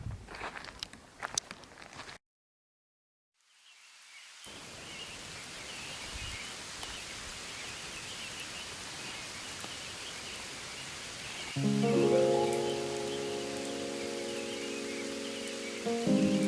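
Light morning rain falls at a mountain lake in Idaho, a soft, steady, even hiss that continues for many seconds after a brief silent gap, later joined by a low tonal hum.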